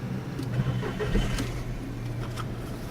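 A car engine cranks and catches, with a brief starter whir followed by a low, uneven mid-range rumble as it settles into idle, heard close and fairly quiet.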